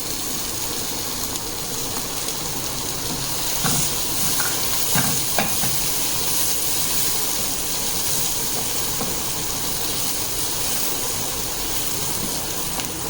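Onion, garlic, ginger and tomato fry in a pan with a steady, close sizzle, broken now and then by a few scrapes and knocks of stirring. No one speaks.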